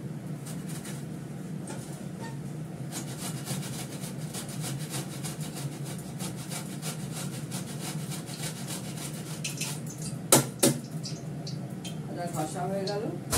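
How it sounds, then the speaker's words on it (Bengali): Fresh ginger rubbed against a grater for a fish dish, a steady scraping rasp that repeats with even strokes at close range, with a couple of sharp knocks near the end. "এবার আদাটা ঘষে নেব"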